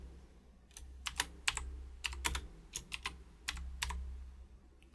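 A computer keyboard is typed on in short bursts of crisp close clicks over a low hum, quiet and with no one speaking.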